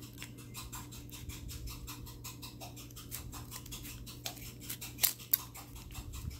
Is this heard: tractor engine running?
no